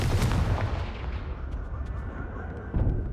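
The Confringo fire spell from Hogwarts Legacy erupts in a loud, booming blast with a rumbling tail, and a second heavy impact hits near the end.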